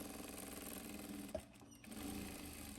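Overlock serger stitching the hem of a blouse, a continuous fast mechanical whir that pauses briefly midway and then resumes, close and steady, with no speech.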